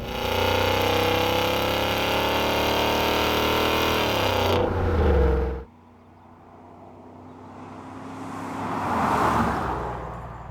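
A BMW E53 X5 4.8iS V8 revs loudly, then the engine note drops sharply to a quieter rumble, followed by a swelling rush of noise near the end.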